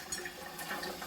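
Cold tap water runs softly over raw salmon in a steady, faint trickling splash, with no talk.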